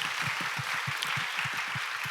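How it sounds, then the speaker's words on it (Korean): A church youth group claps together in a steady burst of crowd applause lasting about two seconds, with a soft, regular low thumping running beneath it. "우리 박수하겠습니다."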